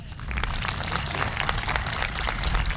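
Soft, scattered applause from a graduating high-school class, a steady patter of many hands heard from some distance with no speech over it.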